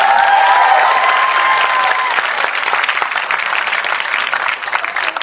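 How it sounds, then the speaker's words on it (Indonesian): Loud audience applause with some cheering at a Javanese comedic sermon gathering, a dense wash of clapping that starts strong with a brief held tone early on, then continues steadily and fades slightly. "Ini tepuk tangan maksudnya apa?"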